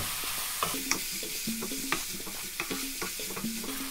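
Oxtail stew frying in a pot is stirred with seasoning added, giving a steady close sizzle broken by repeated scraping and clinking strokes of the spoon.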